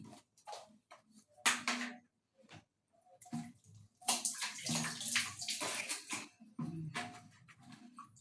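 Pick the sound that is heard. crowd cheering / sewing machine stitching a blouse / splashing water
splashing water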